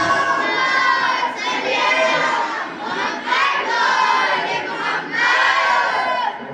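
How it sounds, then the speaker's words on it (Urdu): Mass of voices in a religious class gathering chanting a salawat slogan together, loud and sustained in surging unison phrases with brief dips between swells. "نعرے صلوات."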